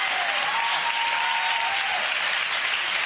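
Studio audience at a televised gospel interview applauds, dense, even clapping that holds steady and loud for a few seconds with a faint whoop over it.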